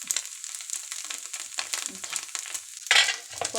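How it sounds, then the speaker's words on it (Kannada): Dosa batter sizzles and crackles steadily on a hot pan, a close, continuous frying hiss with a louder burst of sizzle near the end and no voices. "ನಾನು ಕಸಿದ ಪಾತ್ರೆ ಉಂಟು ಅಡಿಗೆ ದೋಸೆ ಮೇಯ್ತೀನಿ"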